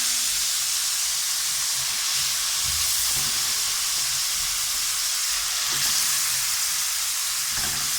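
Half a kilogram of beef mince frying in a karahi gives off a dense, steady, loud sizzle and hiss that runs unbroken from start to end, close up with no talking.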